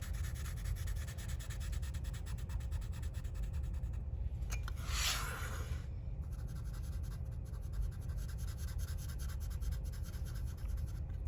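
Charcoal is rubbed steadily onto paper while a drawing is coloured in, making a continuous close scratchy rasp with quick repeated strokes and one brief sweeping brush in the middle.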